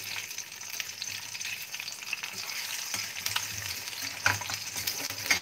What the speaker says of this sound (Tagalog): talagang medyo walang stainless pag nagpiprito ko ng sunny side up eh